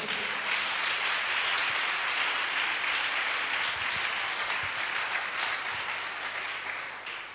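A church congregation applauding during a worship service, sustained dense clapping that carries on steadily and tapers slightly at the end, no talk.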